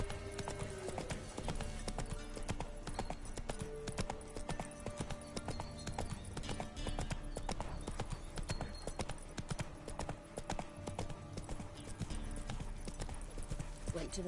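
Horse galloping in The Witcher video game, rapid rhythmic hoofbeats pounding steadily throughout with game ambience beneath, fairly quiet overall, and some speech from characters in the game.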